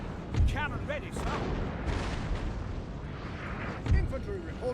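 Cannon artillery fires in the Napoleon: Total War Great Britain coalition campaign, with two deep booms spaced a few seconds apart under steady battle ambience and game voices.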